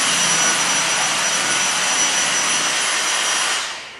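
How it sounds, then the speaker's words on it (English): A vacuum cleaner running over a floor drones with a loud, steady whine close by, then winds down abruptly near the end. No talking. "And that's how you vacuum using your left to right, top to bottom strategy."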